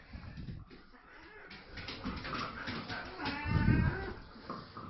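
A pet cat in a home in Spain gives faint meows and caterwauling, with a louder, lower cry near the end, while someone talks softly to it.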